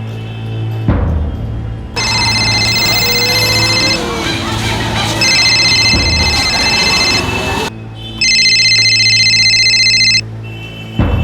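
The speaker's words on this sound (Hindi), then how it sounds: "पापा का फोन है।" A phone rings in a scene from the Hindi TV crime drama Crime Patrol, in repeated electronic bursts, loud and close, with pauses between rings and a murmur of background voices.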